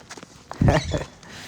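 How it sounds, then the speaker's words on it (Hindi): A child's hard-soled little shoes tap out a few quick clip-clopping steps on a hard floor at a zoo, close by, with a brief louder cluster in the middle. "तो नुन्नू के शू देखो कैसे साउंड कर रहे हैं।"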